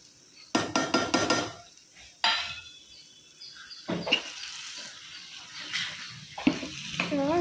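Salt, turmeric and spices are stirred into a raw mango mixture roasting in oil for kobari mavinkai chitrana. A spoon clatters and scrapes the pan in uneven bursts, with a soft sizzle underneath.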